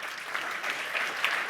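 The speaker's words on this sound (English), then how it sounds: "Let's give Tristan a round of applause for giving me a hand." An audience at a Nashville sales seminar breaks into a short, dense burst of steady clapping, moderately close and without voices.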